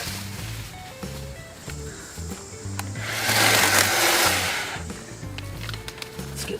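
Worx JawSaw electric chainsaw running and biting into wood, a steady whirring motor with a louder, rougher cutting burst in the middle, close and alone without talk.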